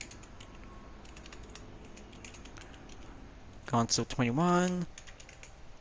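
Someone types a message on a computer keyboard, a run of light, quick clicks at low level, interrupted by a short spoken phrase.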